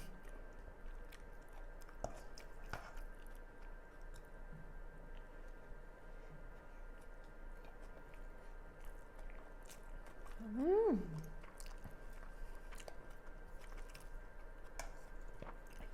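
Soft, wet chewing of a raw beef yukhoe bibimbap, close and quiet but steady over a faint background hum, with one brief vocal sound partway through.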